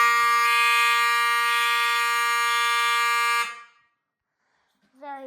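A System Sensor i3 fire alarm sounds in a basement fire alarm system test, a loud, steady electronic tone that holds for about three and a half seconds and then cuts off into silence before a voice begins.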